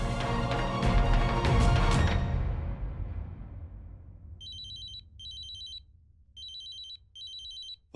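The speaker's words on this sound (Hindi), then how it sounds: "ये बाबा साहब हमें फोन कर रहे हैं।" A telephone rings in four evenly spaced bursts of bright electronic trilling, each about a second long, coming after a loud swell of dramatic music fades out.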